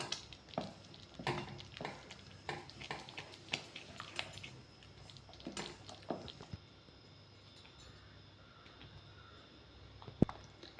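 Spoon scraping and clinking in a pot while rava and moong dal are stirred with salt for rava pongal, a series of soft, close, irregular strokes that fade into quiet near the end.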